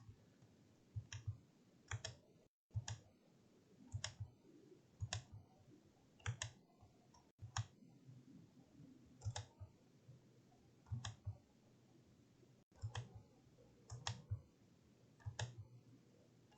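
Sharp clicks of a computer mouse come in quick pairs and small bursts, repeating every second or so over a quiet background, while tracing a metal nameplate in CorelDRAW.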